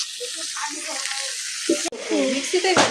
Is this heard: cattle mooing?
no